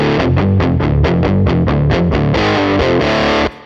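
An electric guitar played through the Drive High A amp preset gives thick, heavily distorted tone, a quick run of loud picked notes and chords that rings out steadily before cutting off abruptly near the end.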